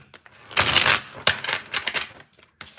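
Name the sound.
shuffling tarot cards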